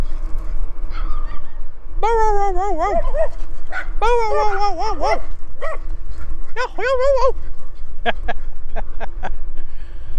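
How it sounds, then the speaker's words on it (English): A young dog yips and whimpers in bursts of high, wavering cries, with short sharp barks near the end over steady low background rumble. "Look at this little puppy."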